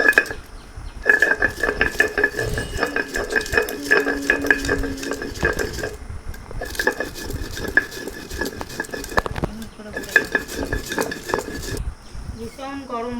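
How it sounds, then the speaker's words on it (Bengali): Chillies and mustard seeds being dry-roasted and stirred in an earthen pan, with a constant scraping, rattling stir and light patter near the mic, and a voice talking over it. "ভালো করে এগুলো নাড়াচাড়া করে ভেজে নেবো"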